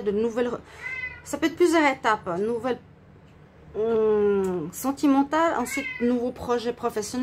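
A cat meows repeatedly and loudly close by, long wavering cries that overlap and alternate with someone speaking French throughout.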